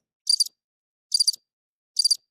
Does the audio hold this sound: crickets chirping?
yes